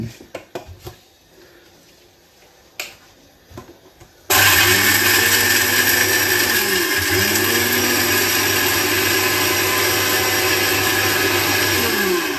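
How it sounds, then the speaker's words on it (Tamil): Kitchen blender grinding roasted spices to a powder for avara mani kuzhambu, starting abruptly after a few seconds of quiet clatter and then roaring loud and continuous with a steady whine to the end. "We'll just blend this to a powder for the குழம்பு."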